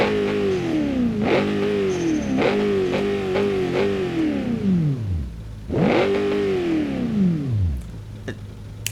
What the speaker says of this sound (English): I was just trying to get a small rev